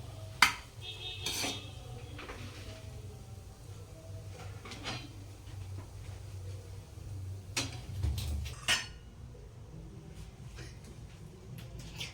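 Fried rotla served into a dish with utensils: sparse clinks and scrapes of metal on plate, a few sharper taps, over a quiet kitchen background.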